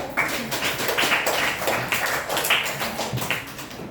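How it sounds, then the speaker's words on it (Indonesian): A small group clapping in quick, uneven bursts, close by and moderately loud, with no talking over it. "kalau pas berikan tepuk tangan untuk Linda."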